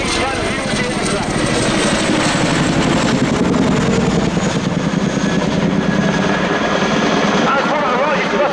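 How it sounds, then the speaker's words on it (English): Chinook twin-rotor helicopter flying a low-level 360-degree orbit at the Royal International Air Tattoo, a loud continuous rotor thud and engine roar throughout, with announcer talk over it. "a crew will fly a low-level 360-degree orbit"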